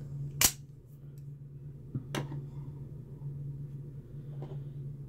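A Vespa Combat Troodon out-the-front knife fires its blade with a sharp, close snap, followed by a fainter second click and a soft later tick over a steady low hum.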